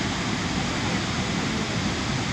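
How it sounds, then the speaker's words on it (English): Magod Waterfalls in Uttara Kannada, Karnataka, swollen by monsoon rain, roars as a steady, dense, loud rush of falling water that continues unbroken throughout. "Magod Waterfalls of Uttara Kannada, Karnataka during the monsoon season."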